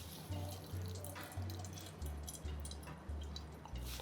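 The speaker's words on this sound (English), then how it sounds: "I'm going to wrap it in the towel and then mix it up and just squeeze really, really well" Liquid drips and trickles steadily as grated potatoes wrapped in a towel are squeezed, a soft rhythmic pattering into a bowl, faint and close.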